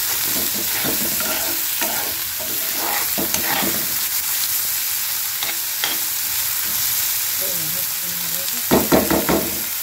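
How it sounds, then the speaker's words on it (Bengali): Finely chopped onions fry in hot oil, with a dense steady sizzle and repeated stirring scrapes, plus a brief clatter near the end. "পেঁয়াজটা খুব ধীরে ধীরে করে কুচোতে হবে। এটা সামান্য একটু ভেজে নিয়ে তবে আমি এর মধ্যে মাংসটা দেবো।"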